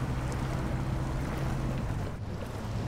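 Truck grinding forward in low gear through deep mud in SnowRunner, a continuous low rumbling drone with a steady, unbroken engine tone and no talking.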